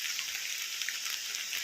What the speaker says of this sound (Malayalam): മഴയുണ്ട് കേട്ടോ